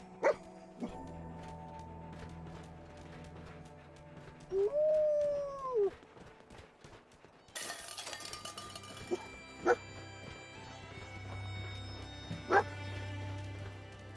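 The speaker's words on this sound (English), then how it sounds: "dog meat's found something." Dogmeat, the dog companion in Fallout 4, gives a few short barks and a brief howl-like whine amid game music and effects, each sound fairly clear and separated by pauses.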